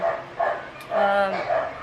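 Dogs indoors in a home let out a few short, close yips and whimpering barks in quick succession.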